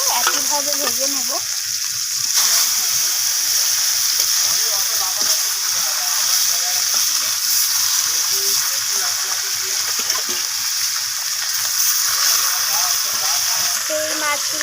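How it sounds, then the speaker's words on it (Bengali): Pieces of rohu fish fry in hot oil in a pan with a loud, continuous sizzle and hiss, broken by occasional stirring and turning sounds. "তো এরপর আমি বাকি মাছগুলোকেও একইভাবে ভেজে নেব।"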